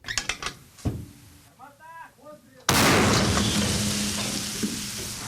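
Several sharp knocks and a brief shouted call, then a sudden, loud artillery blast that rolls on into a long, heavy rumbling echo.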